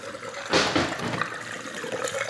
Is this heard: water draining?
yes